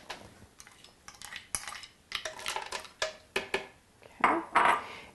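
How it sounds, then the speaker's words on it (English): Two cups of cashews tumble into a Vitamix blender jar in a string of bright clattering rattles and clinks, ending in louder rustling pours, close by with no talk. "we've got 2 cups of cashews, and we're going to add that to our Vitamix"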